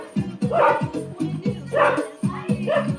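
A dog barks repeatedly in close, loud bursts, its yips and woofs mixed with whimpery tones in an uneven rhythm that pauses briefly partway through.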